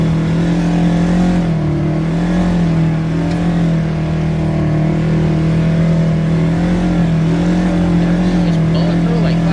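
An ATV fitted with Traxion Glacius studdable winter tires drives through deep snow, its engine holding a loud, steady drone close by, with someone talking over it.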